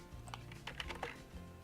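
Quick typing on a computer keyboard with a microphone directly in front of it, a rapid run of soft, close key clicks at an uneven pace over low background hum.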